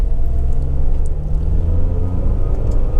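A 2007 Toyota RAV4 2.0 XT4 4WD slows under braking on an open road, a steady low rumble of engine and tyre noise filling the cabin, close and fairly loud with no voices.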